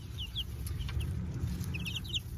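Chickens cluck close by in a quick, uneven series of short calls over a low, steady background rumble, with no one talking.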